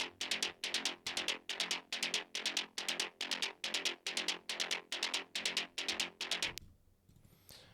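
A trance straight runner synth bassline pulses in an even, rapid rhythm of bright, punchy notes for about six and a half seconds, then stops and leaves a faint tail.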